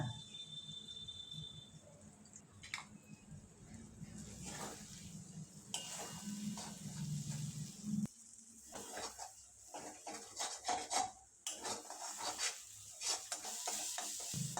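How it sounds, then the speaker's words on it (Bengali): Beaten egg scrambled into bhurji with spices in a pan for street-style egg fried rice, with steady sizzling and repeated scraping, stirring clinks of a spatula against the pan, close and moderately loud. "ডিমটা এভাবে ভুর্জি করে নেব"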